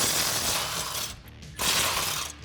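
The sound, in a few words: ratchet with 16mm socket removing bolts, Jeep Wrangler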